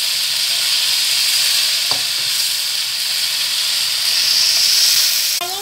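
Emperor vegetable frying in a hot pan gives a steady, loud close sizzle, with a brief knock as it is flipped and a sharp clatter near the end.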